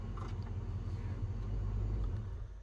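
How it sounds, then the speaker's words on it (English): A car engine idles at a campsite, a steady low rumble close by that runs throughout with slight swells and no talk over it. "Turn off the car."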